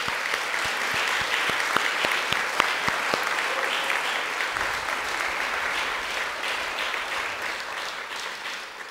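Audience applause at a church baptism ceremony, steady dense clapping with a few sharp individual claps standing out near the start, sustained and fairly loud throughout.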